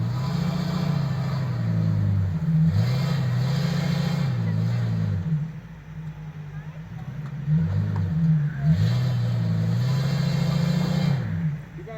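Ford Excursion stuck in snow, engine revving in repeated rising and falling surges as its tires spin, fairly close, with a person talking over it.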